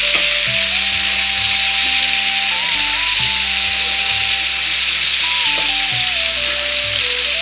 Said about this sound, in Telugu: ఉడకబెట్టేసుకొని మిక్సీ పట్టేసుకున్నా కానీ మళ్ళీ నూనెలో వేయించుకుంటున్నాను అనమాట.